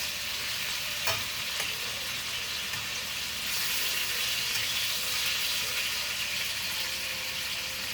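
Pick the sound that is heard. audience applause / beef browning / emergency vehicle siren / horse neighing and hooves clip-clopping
beef browning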